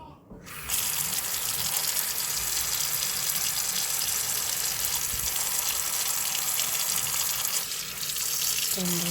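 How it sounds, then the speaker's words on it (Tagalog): Water runs steadily from a tap into a sink, a continuous rushing splash that starts abruptly and keeps going. "Damihan-damihan natin ng tubig para malutong ito."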